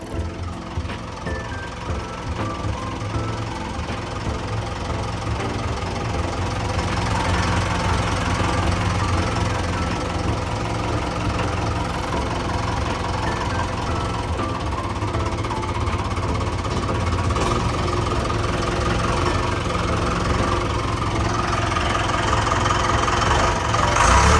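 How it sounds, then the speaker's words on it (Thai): A Komatsu 510 wheel loader's diesel engine idles close by with a rough, knocking rumble that holds steady and grows slightly louder throughout. "เป็นเครื่องยนต์ CD 1052 นะครับ"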